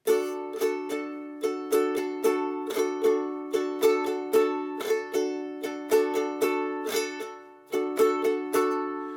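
A ukulele strummed at a steady tempo, with a quick rasgueado flurry of all four fingers striking on beat 2 breaking up the regular down and up strokes, played alone.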